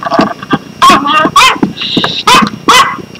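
A dog barks and whimpers in short, loud bursts mixed with people talking over it.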